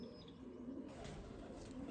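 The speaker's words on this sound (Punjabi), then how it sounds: "ਉਹ ਕਬੂਤਰੀ ਵੀ ਆ ਕੇ ਬਹਿ ਗਈ" Soft, low pigeon cooing, faint and somewhat distant, over a quiet background.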